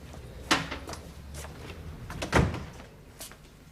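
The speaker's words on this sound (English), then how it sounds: "Close the door, Mr. Biddle." A door swings shut in an indoor room with a couple of knocks and a firmer thud near the end, close by, with no talking.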